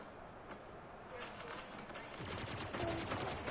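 Rapid gunfire from a weapon in the video game Spiritgate, a fast crackling burst of shots that grows denser and louder over a few seconds, with a faint game-sound background.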